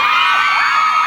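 A crowd at a live event screams and cheers loudly and continuously, a dense wall of shouting voices that fills the whole moment.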